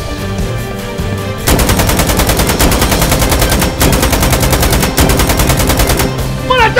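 Rapid automatic gunfire in a Nigerian Nollywood gang action movie trailer bursts in after a short lead-in and rattles in fast, loud, continuous volleys for about five seconds.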